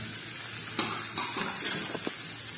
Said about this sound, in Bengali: এটা এরকম ভাবে আস্তে আস্তে নাড়তে হবে, ভালো করে ভেজে নিতে হবে।